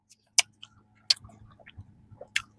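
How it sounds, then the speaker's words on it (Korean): Crisp bites into a flaky strawberry cream danish, a few sharp crunches spaced apart with softer chewing and faint crackles between them, close to the mic. "씹자마자 바삭 폭발."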